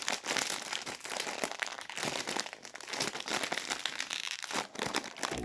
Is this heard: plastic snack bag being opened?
yes